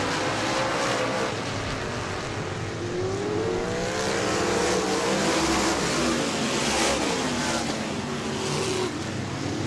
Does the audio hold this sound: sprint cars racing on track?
yes